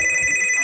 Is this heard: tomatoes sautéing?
no